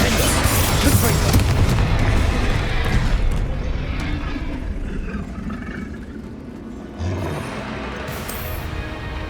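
Confringo fire-blast spells in Hogwarts Legacy erupt as loud, rumbling explosive booms that dominate the start and fade into lingering crackle, with a second thud near the end.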